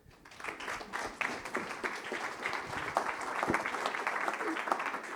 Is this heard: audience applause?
yes